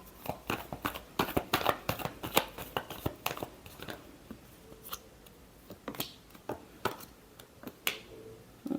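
Tarot cards being shuffled by hand: a busy run of crisp slaps and riffling flicks, dense at first and then thinning into scattered taps, close and fairly quiet with no voice.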